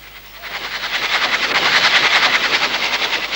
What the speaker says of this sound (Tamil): ரயில் வர சத்தம் கேக்குது